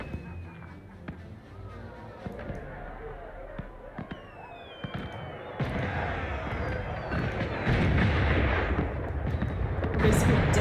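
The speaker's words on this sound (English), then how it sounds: "Basically detonating fireworks." Fireworks detonate in Dragon Age: Inquisition as a series of sharp bangs and crackling bursts that build into a dense, loud barrage over a game background.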